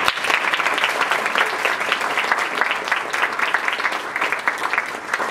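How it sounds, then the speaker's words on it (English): An audience at a community food and justice network meeting claps steadily for several seconds, dense and even with no talking. "Let's give them a round of applause."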